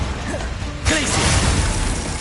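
Glacius ice spell cast in Hogwarts Legacy combat: a sudden bright crashing burst with crackling impact noise over a constant background of game action and effects.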